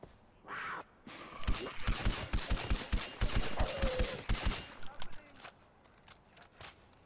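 Gunfire in Far Cry 4: a rapid series of sharp shots, a dozen or so in quick rhythm in the middle, fairly close, then tapering into scattered single shots, with brief talk at the start.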